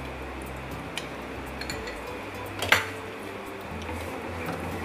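A spoon stirring custard mixture in a pan, giving soft scraping and a few light metallic clinks, one sharper knock near the middle, all quiet and close.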